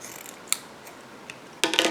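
Scissors cut crochet work in half across its width: a few faint, isolated snips, then a louder, crunchy cluster of cuts near the end, alone in a quiet room.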